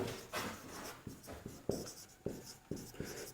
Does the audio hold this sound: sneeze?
no